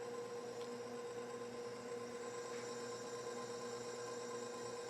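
An electric mixer whirs steadily, blending mashed bananas and sugar for banana bread, a constant mid-level motor hum with no talking.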